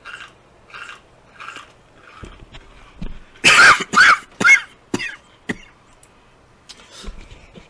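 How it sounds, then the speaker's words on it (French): A short burst of three or four loud coughs close to the microphone, followed by a couple of smaller throat noises, after some faint intermittent game sounds in a quiet setting. "Excusez-moi d'avoir ce petit toussement"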